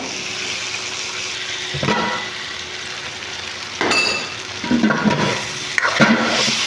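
A utensil stirs a cornstarch-thickened sauce in a pan while cooking chop suey, with intermittent scraping, soft clinks against the pan and a low, steady background wash.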